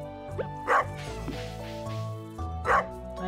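A dog in Stardew Valley gives two short yipping barks with a faint whimper between them, close and clear against a steady game music backdrop.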